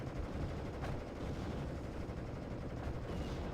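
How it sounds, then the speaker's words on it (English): Mortar rounds fired in a blind barrage by a 60mm mortar team in the Company of Heroes video game, a dense continuous rumble of booms and crackling blasts at steady loudness, with no voices over it. "60mm mortar team firing off a blind barrage."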